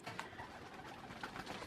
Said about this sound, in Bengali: রাজগোলা কবুতরের বাচ্চা, দেখেন একদম একদম পিওর রাজগোলা কবুতর